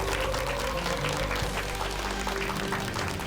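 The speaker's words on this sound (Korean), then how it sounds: "큰 박수로 맞이해 주시기 바랍니다." Dense, steady applause from a Korean TV lecture audience welcoming the speaker fills the whole stretch, evenly loud with no pauses.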